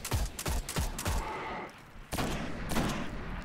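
Sniper rifle gunfire in the video game Destiny, with a series of sharp, loud shots in quick succession, a short lull, then more heavy reports, with no talk.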